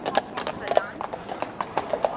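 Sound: horses' hooves clip-clopping on street in Dresden

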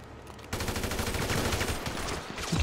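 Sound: gunfire from a machine gun in the video game GTA V Online

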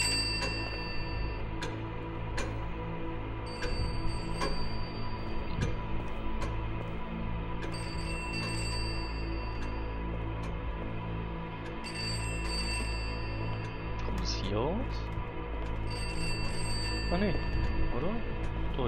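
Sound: telephone ringing in the video game Pineview Drive

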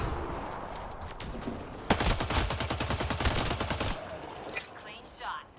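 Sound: gunfire in a video game

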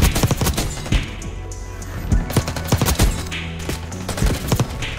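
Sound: gunfire in a shooter video game

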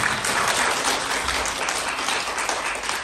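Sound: audience applause at a training seminar

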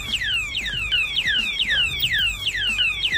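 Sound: Oga Protect anti-theft padlock alarm sounding

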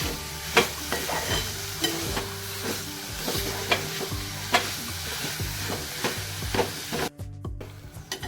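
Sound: grated wet coconut filling being sautéed and stirred in pan

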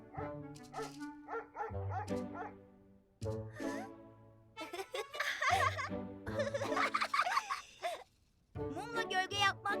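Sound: dog barking

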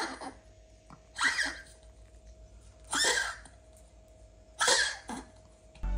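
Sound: dog coughing

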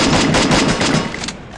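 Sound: gunfire in Free Fire video game

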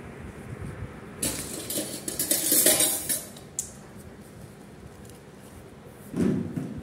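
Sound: box biryani being emptied into a vessel

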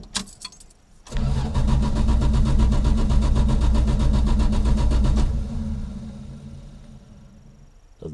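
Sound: car engine starting

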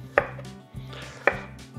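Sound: knife chopping vegetables for the meat grinder

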